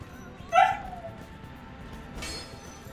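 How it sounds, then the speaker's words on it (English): A Siberian Husky yips once sharply, then whimpers softly at a distance over a steady low background hiss. "Is that a dog? Yeah, that's my Siberian Husky."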